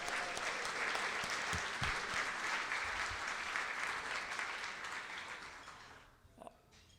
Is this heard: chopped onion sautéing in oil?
no